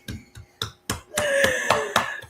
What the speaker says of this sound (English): Miss Tamika, she's giving you applause for being a nurse.